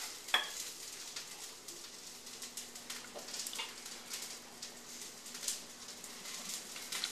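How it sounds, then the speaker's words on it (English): Soup of ham, fresh basil and mushrooms boiling in a pot, a soft steady bubbling and crackle with occasional light clinks, fairly quiet and close. "Our soup's boiling up nicely."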